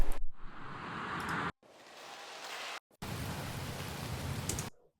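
Rain ambience layered under a music track, a steady hiss of falling rain on a surface, heard alone in three sections broken by short gaps, quiet and even.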